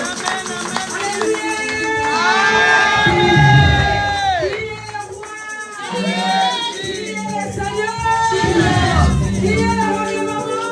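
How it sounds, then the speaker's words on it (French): A crowd at a church convention for mothers cheers loudly in long swells of shouting, whooping and high ululating voices, with a brief lull in the middle before the cheering rises again. "Applaudissons très fort pour notre femme"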